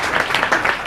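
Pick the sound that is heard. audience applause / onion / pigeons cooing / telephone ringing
audience applause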